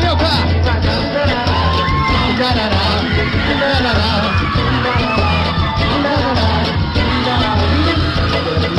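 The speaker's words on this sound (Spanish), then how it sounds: "A ver, el grito de las mujeres." Audience at a Chilean TV dance contest roars continuously, with high screams, whoops and cheering from women over a dense, loud crowd din and a pulsing low musical beat throughout.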